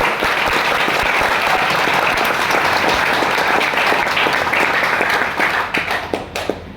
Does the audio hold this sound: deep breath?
no